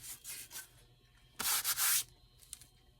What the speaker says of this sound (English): it's just great for sanding the top of the wing